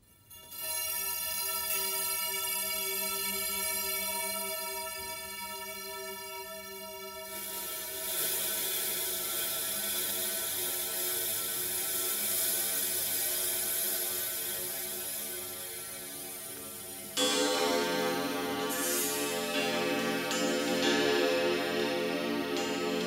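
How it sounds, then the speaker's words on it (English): Harry Bertoia Sonambient sound sculptures of metal rods played in an art museum gallery give a sustained, shimmering metallic ringing drone that swells and thickens twice as more rods are set in motion, with no talking. "They're sound sculptures and what Harry Bertoia called son ambient"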